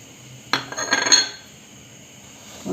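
A metal spoon clinks and scrapes against a bowl while spices are added and mixed for a potato sandwich filling, a short close burst of rattling clinks followed by quiet.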